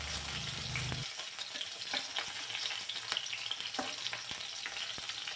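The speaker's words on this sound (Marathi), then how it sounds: "जरा वेळ मिरची चांगली तेलामध्ये परतून घेतली" Green chillies sizzle steadily in hot oil in a pan, a continuous close frying hiss broken by occasional scrapes and taps of a spoon stirring, with no talking.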